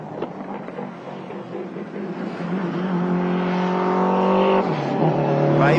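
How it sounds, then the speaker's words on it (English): Subaru WRX Impreza built for time attack circulating a race track, its engine note building from a distant drone to a close, loud run with gear changes. "So this is Dan Day in his Impreza. Just having a listen to the attitude of the car here."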